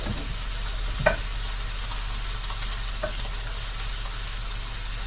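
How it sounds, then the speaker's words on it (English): An egg fries in a pan as a steady, close hiss of sizzling fat, even and continuous, with a couple of faint clicks of a utensil against the pan. "What we're doing is we're setting the bottom of the egg so it firms up."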